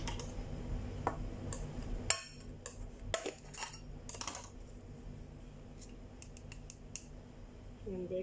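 Scissors snip open a packet of baking powder in a home kitchen while making banana balls, a series of sharp close clicks and crinkly cuts over a low steady hum.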